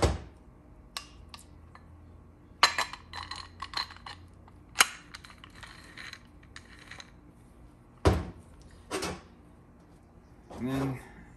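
Metal parts of a Dodge 48RE automatic transmission clink and clunk as the rear ring gear and planetary carrier are seated on the output shaft, sharp isolated metallic knocks spaced apart, close and fairly loud.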